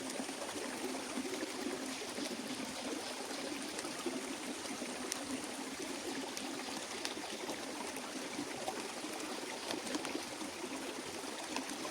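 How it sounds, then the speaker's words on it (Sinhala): Rain falling outdoors, a steady, faint hiss of dense drops that continues evenly throughout with scattered small patters and no voices. "අපි වීඩියෝ එකක් කරන්න ආවොත් වහිනවා."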